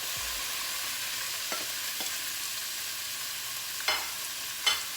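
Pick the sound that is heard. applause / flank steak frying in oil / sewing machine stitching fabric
flank steak frying in oil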